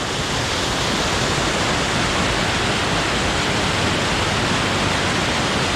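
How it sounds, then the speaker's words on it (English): Thunder River in the Grand Canyon pours off a cliff as a waterfall, a dense, constant roaring hiss of falling water, very close and loud throughout, with nobody talking. "Heading off the edge of a cliff in a waterfall."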